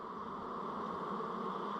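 A honey bee colony in a hive, heard as a steady, dense buzzing hum that stays constant at moderate level with no other sounds.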